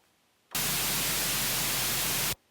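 Broadband noise oscillator of the Sugar Bytes Unique synth on iPad, a steady loud hiss with a low hum underneath, switching on abruptly and holding for about two seconds before cutting off cleanly.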